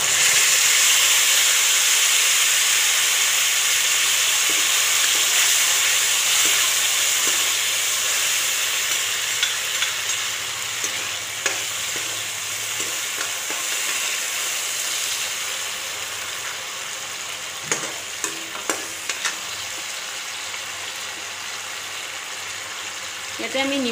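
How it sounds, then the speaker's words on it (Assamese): Tomato paste fries in oil, a continuous hiss and sizzle with scattered small pops and clinks of stirring, while a voice talks over it. "সেই পেষ্টখিনি আমি ইয়াতে দিম। তেলত অলপ ভাজি ল'ম।"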